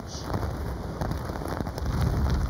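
Heavy rain from Hurricane Irma pours down with gusting wind, a loud continuous hiss of drops pounding surfaces, dense and unbroken throughout.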